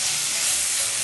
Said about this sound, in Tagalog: Igigisa lang natin itong pork belly dito sa mga gulay na nailagay na natin kasama yung kamatis hanggang sa mag-brown ito